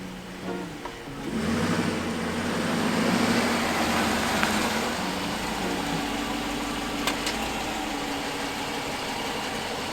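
A 2015 Dodge Durango R/T on the move, its engine a steady mid-pitched drone with broadband road and wind rush throughout, rising slightly after the first second and holding near and even.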